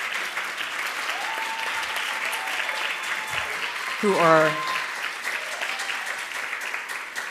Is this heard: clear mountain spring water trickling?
no